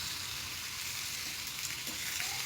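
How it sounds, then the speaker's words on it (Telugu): Washed chicken pieces fry with lightly browned onions in oil, making a faint, steady sizzle throughout without speech. "ఉల్లిపాయలు లైట్గా ఇలాగా బ్రౌన్ కలర్లో ఫ్రై అయిన తర్వాత ఇప్పుడు కడిగిన చికెన్ని యాడ్ చేశాను"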